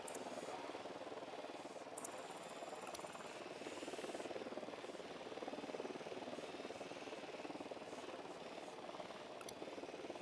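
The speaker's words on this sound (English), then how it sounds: "Drone is airborne." Drone flying in the video game Ghost Recon Wildlands, a faint steady buzzing hum with a few brief high clicks, continuous and fairly distant throughout.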